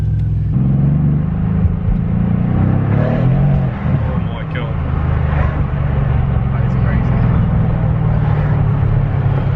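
A loud, deep 4-litre V8 engine in a Mercedes-Benz C63 S AMG Coupe rumbles steadily with a brief dip as it revs, while people exclaim excitedly over the noise.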